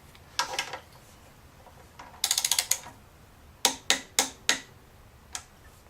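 Torque wrench clicking and ratcheting while tightening the front brake caliper bolts on a Yamaha V-Star 1100 cruiser, in short bursts of close, crisp clicks separated by brief pauses.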